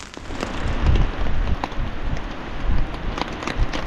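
Rain patters on a tent, irregular drops tapping the fabric over a steady wash of noise.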